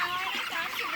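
A chicken clucks close by in a brief run of quick, nasal calls at a steady moderate level, with no voices over it.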